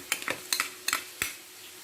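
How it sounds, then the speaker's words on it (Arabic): Minced garlic goes into a hot pan with fried onion and is stirred, with a series of quick scraping clinks of a utensil against the pan over a soft, quiet sizzle, five or so distinct strokes in a loose rhythm. "هحط معلقه ثوم مفرومه كبيره"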